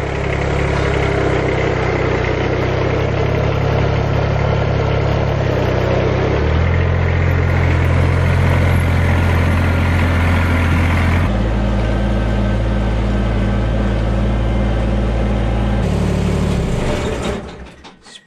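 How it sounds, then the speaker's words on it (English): A tractor engine runs steadily for about 17 seconds, its tires fitted with chains, while the machine rides rough on a homestead being readied for winter storms; a loud low rumble with shifts in tone, fading at the end. "Pretty crazy how much rougher the tractor rides with those chains back on there."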